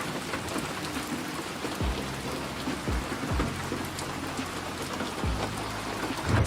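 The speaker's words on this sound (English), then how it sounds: "I'm gonna play some audio of some rain." Steady rain fills the scene, a dense continuous hiss of drops falling all around with a few heavier low thumps, close and even throughout with no voices.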